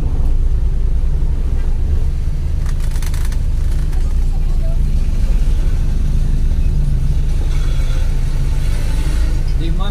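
Busy traffic on the National Highway at Rojas Avenue in Iligan City makes a dense, steady roar of passing vehicles and low engine rumble, with voices faintly underneath.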